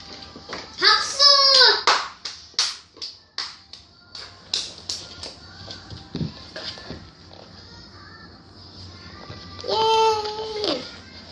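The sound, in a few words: children clapping hands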